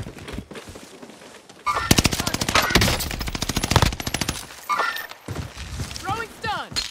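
Rapid bursts of automatic gunfire from a Warzone video game match, loud dense volleys of shots with pauses, while players talk over the action.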